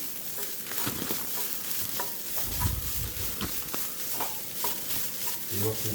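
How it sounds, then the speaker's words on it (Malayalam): Spice paste stirred into fried turmeric in a pan for a Kerala-style amara payar thoran, with a soft sizzle and repeated scraping spoon strokes, close and steady. "നമുക്ക് ഇനി അരപ്പ് തയ്യാറാക്കിയത് ചേർത്ത് കൊടുക്കാം. ഇത് നന്നായിട്ട് ഇളക്കി കൊടുക്കുക."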